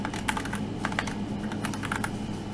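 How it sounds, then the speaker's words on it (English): A computer keyboard typing a short word, about a dozen light quick key clicks in an irregular rhythm over a low steady hum, close and quiet, with no voices. "We're gonna type in the word home."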